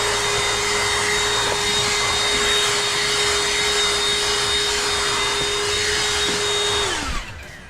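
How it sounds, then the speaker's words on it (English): Vacuum cleaner running steadily beneath the seat area of a 1990 Honda CRX with its seats removed, a loud continuous whine and broadband roar that holds nearly constant before spinning down near the end, no talk. "Now it's vacuum under the seat while I have the seats out"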